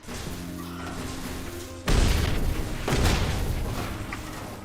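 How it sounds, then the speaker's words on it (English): A lightning bolt strike in the People Playground video game lands as a sudden loud crash after a quiet start, followed by rumbling and a second surge of crackling noise. "How about a lightning bolt?"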